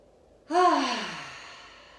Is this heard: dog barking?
no